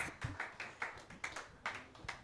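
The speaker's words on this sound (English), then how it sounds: "Let's give a round of applause to the running president candidates as they have their seats." Scattered hand claps from a small audience at a student presidential candidate debate, sparse and uneven, a dozen or so sharp claps at moderate distance rather than sustained applause.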